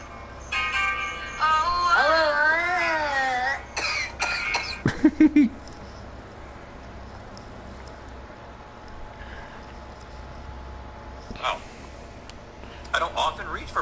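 A human cough, a few short harsh bursts near the middle amid animal-like squeals and talk, with long quiet stretches between.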